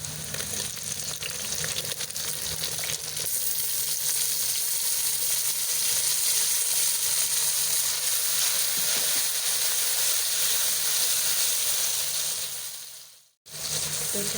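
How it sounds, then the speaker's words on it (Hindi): Tomatoes hitting browned onions in a hot frying pan for a quail karahi set off a loud, continuous sizzle and hiss that runs steadily before cutting out near the end. "तो यहाँ जो प्याज है वो ब्राउन हो चुकी है, तो अब हम इसमें शामिल करने लगे हैं टमाटर।"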